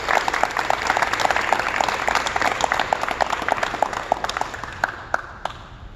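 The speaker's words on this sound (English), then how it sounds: "let's give Gus a round of applause" A crowd gives a round of applause for Gus Davenport at his Trevecca Nazarene University signing event: dense, continuous clapping from many hands that thins and fades toward the end.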